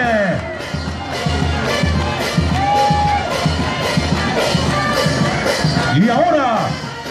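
Carnival audience at a troupe and comparsa contest cheering and applauding as a crowd, with whoops and shouts over steady loud clapping, while a voice talks over a loudspeaker.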